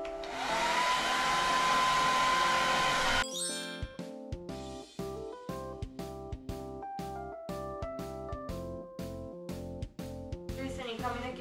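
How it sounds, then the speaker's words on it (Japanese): A hair dryer blows hard and steady while drying hair after a shower, then cuts off and gives way to gentle chiming music with soft voices in the room. "ルイスに髪の毛をいつも通り乾かしてもらいます。"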